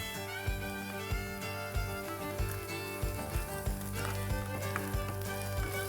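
Onions sizzle steadily in hot oil as ginger and garlic are added, with a continuous frying hiss and periodic soft clinks of stirring, close and without any talk.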